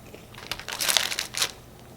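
Crunchy Wingstop fries bitten and chewed close to the mic, a cluster of crisp crinkling crunches in the middle of a short quiet stretch, with no talking.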